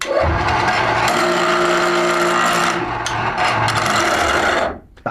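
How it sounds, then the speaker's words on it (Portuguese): Steel pressed against a spinning bench grinder wheel for a spark test gives a loud, steady abrasive whine and grinding hiss that runs for several seconds, then cuts off near the end. "Ele serve para determinar o teor de carbono do aço através da forma da centelha que o material emite ao ser atritado num esmeril"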